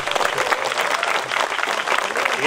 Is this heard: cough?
no